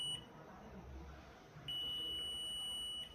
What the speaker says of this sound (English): if we touch this, the buzzer goes